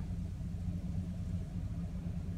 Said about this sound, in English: let's flip it into four high. Four wheel drive shift in progress.